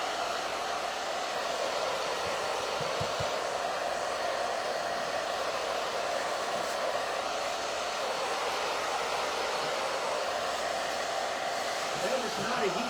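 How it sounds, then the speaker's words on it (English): A Chi hair dryer used for crafting, blowing in a loud, steady rushing whoosh that runs the whole time without a break, close up, with a faint low rumble near the end. "That is not a heat gun. That's a Thai hair dryer. Yeah, this is my hair dryer."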